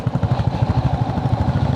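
A motorcycle engine putters with a rapid, uneven thumping rhythm, close and fairly loud, heard while riding on roads around Darjeeling.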